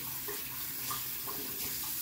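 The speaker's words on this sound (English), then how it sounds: "So then what I do is I take my face cloth and I wet it really good." Tap water runs steadily into a sink to wet a face cloth, a continuous close splashing rush with no talk.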